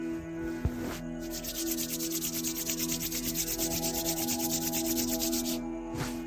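Two palms rub briskly together to warm them, making a steady, close, dry swishing friction that runs for several seconds against a faint low hum.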